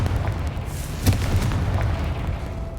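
Confringo blasting spell explodes in Hogwarts Legacy, a single booming burst over a rumbling low background, moderately loud and brief.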